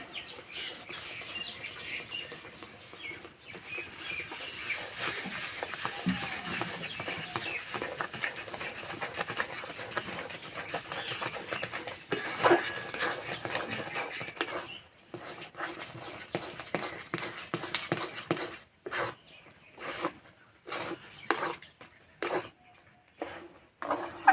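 Coarsely ground semolina is stirred in a bowl, soft scraping and gritty rustling close by, turning into sharp intermittent knocks and scrapes toward the end.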